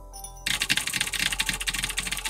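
Clicky blue-switch mechanical keyboard being typed on in a quick, steady run of close, loud key clacks, starting after a brief quiet moment.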